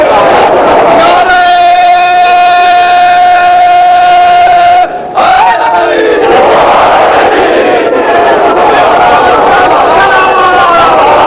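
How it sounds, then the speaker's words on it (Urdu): A large crowd at a religious gathering chants a slogan in unison, a loud sustained tonal roar that breaks off briefly, then swells again into mixed cheering and voices. "میرے دوست نے نعرے لگا دیا اور تمہیں سن بھی دیا"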